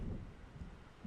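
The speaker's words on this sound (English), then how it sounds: "It seems there's a storm coming." Low, rolling rumble of thunder from an approaching storm in the video game Alan Wake, a faint, continuous murmur lasting about a second with soft swells, heard alone without any voices.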